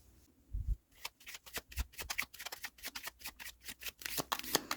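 A Lenormand card deck is shuffled by hand, giving rapid riffling flutters and soft slaps in quick bursts, close and clear, after a couple of low thumps at the start and with no talking.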